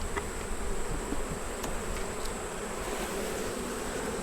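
Honey bees buzzing around an opened hive during an inspection make a dense, steady hum that stays close and even throughout, with no one speaking.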